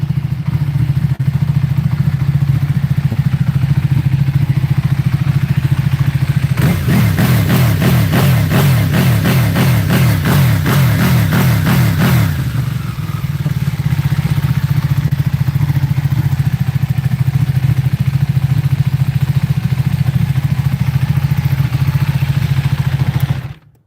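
Ducati 1199R motorcycle engine idling loudly and steadily close by, then revved in a quick burst of rising and falling throttle blips for several seconds before settling back to idle.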